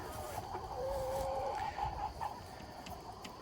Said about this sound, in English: So these guys are really happy chickens.